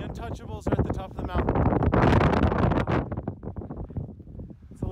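Strong wind buffets the microphone on a cold mountaintop, roaring in loud gusts that swell and fade, mixed with people's voices.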